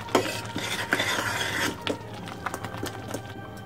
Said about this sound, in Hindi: इसको मिक्स करके गैस को बंद कर देंगे।